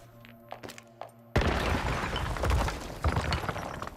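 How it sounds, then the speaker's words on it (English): A grenade in Once Human lands with a sudden heavy thump and blast partway through, followed by rumbling debris and a few scattered impacts after a quiet start. "So let's use a grenade."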